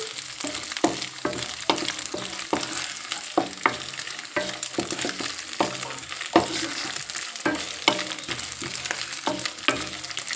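Raw banana pieces frying for curry in a pan: a constant close sizzle punctuated by regular scraping stirs of a spatula, loud and steady without any voices.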